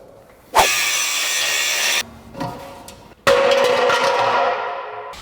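A power saw or cutting tool slicing through a metal box on a Golf GTI rally project car, with loud sustained grinding runs that stop, restart and then trail off, heard close with no talk.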